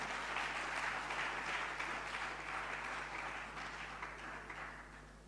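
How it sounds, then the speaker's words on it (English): Sustained audience applause at a formal economic briefing, a dense wash of many hands clapping at moderate distance, fading gradually over a few seconds under a faint low hum. "Please welcome him with a round of applause"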